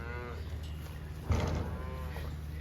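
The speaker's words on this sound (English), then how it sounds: "These are all the mother cows." A single low cow moo rises midway through a steady background hum on a US cow farm, close by, with faint other animal sounds around it.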